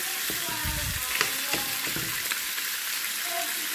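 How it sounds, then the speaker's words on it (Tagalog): Garlic sizzling and crackling in hot oil in a pan for Taiwanese-style adobo, a steady close frying hiss with soft stirring clinks and no talk. "pag naging brown na siya, lagyan ko siya ng bawang"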